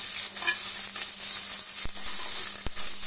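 Shallots, garlic and curry leaves sauté for a fish curry, a steady bright sizzle in the pan with a few soft stirring sounds and two sharp utensil taps.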